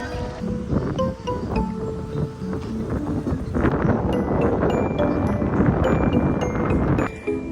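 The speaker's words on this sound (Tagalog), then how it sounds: "Lakas ng hangin." Strong wind buffets the microphone with a constant roaring rumble, growing heavier partway through, no voices.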